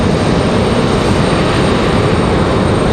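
A CRJ 900 jet airliner departing Raleigh-Durham airport on a stormy day gives a loud, steady broadband engine roar that fills the whole stretch without pause.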